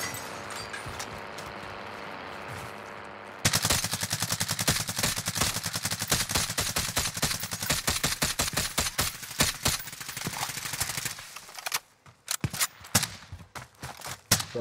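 Call of Duty Warzone gunfire crackles in rapid automatic bursts, with a quieter stretch giving way to dense, sustained volleys and a short lull near the end, loud and continuous with no talking.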